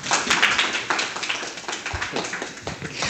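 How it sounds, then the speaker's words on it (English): A burst of applause from a small crowd, dense clapping that holds steady and then thins slightly toward the end. "So maybe give them a round of applause."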